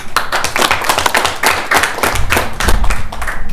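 A small group claps at a graduation: close, loud individual hand claps with an uneven, ragged rhythm, with a low rumble joining partway through.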